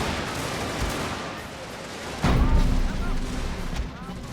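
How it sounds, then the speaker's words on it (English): Return gunfire volleys ring out in a Total War battle, a dense crackling roll of musket fire that swells suddenly midway and carries on loud over a constant battlefield din. "And now the return fire."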